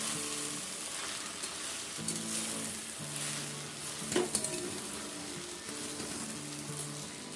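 Sweet vermicelli cooking with sugar in a pan over medium heat, stirred steadily, with a continuous soft sizzle and frying hiss and occasional scrapes, alone and without speech.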